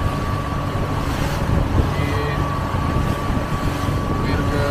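A motorboat engine drones steadily throughout a boat ride on warm water, a loud, continuous hum with water rush and no clear break.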